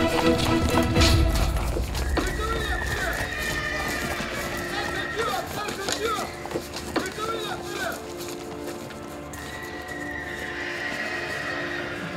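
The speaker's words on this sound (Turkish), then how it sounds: "Atların sesine geldim. Baksana koşturuyorlardı." Horses gallop past with clattering hooves and an occasional whinny, while several people shout over the commotion.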